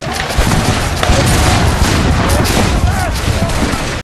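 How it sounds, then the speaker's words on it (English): Civil War musket volley: a long, sustained roll of massed gunfire, dense crackling shots blending into a continuous loud roar for several seconds, with no distinct pauses. "Suddenly, a long volley is fired."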